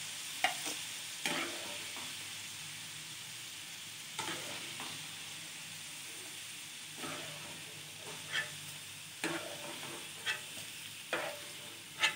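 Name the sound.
garlic frying in oil, stirred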